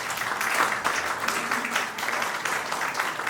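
An audience at a university honorary doctorate ceremony breaks into warm, steady applause, dense overlapping clapping from many hands that stays even and full throughout the short burst.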